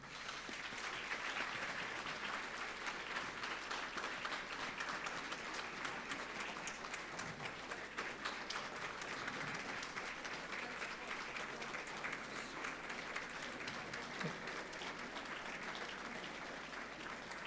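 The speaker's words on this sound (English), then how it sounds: "Standing ovation, please." A long standing ovation for Secretary Clinton at an international forum on women, peace and security, a sustained dense roar of clapping from a large audience that holds steady throughout.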